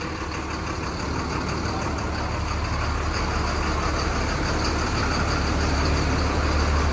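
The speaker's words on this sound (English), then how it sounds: "Just moving around with the forklift." A heavy forklift engine idles and rumbles steadily nearby while moving a Chevy Kodiak truck in a shop, growing slightly louder toward the end, with no talking over it.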